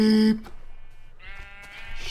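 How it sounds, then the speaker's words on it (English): A Minecraft sheep gives one short, loud bleat right at the start, followed by quieter in-game ambient sound. "Sheep!"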